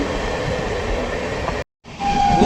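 Guwahati Intercity train running at night, heard from the open door: a loud steady rumble and rushing wind, broken by a brief sudden silence before resuming, with a faint high whine after.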